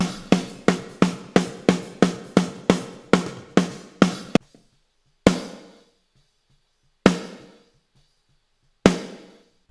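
Raw, unprocessed drum kit recording of hard hits for a metal mix: a quick run of a dozen even strikes, then a few single hits spaced farther apart, each ringing out briefly.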